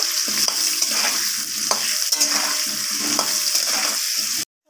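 Potatoes frying in oil with turmeric until reddish, a steady close sizzle broken by repeated rhythmic scrapes of a spatula stirring through the pan, then a sudden stop.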